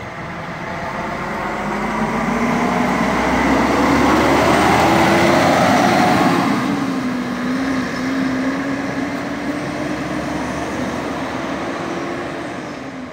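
Heavy traffic at Brasília's interstate bus station, with intercity buses moving through: a steady, loud engine rumble that swells around the middle and holds as a vehicle passes close by, with no talk.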